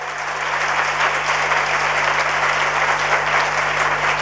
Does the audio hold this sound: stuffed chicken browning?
no